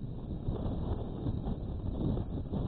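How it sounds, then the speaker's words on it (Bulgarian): Steady, rough wind rumble buffets the microphone, continuous and fairly strong throughout with no pauses. "Това е вятъра, представяте?"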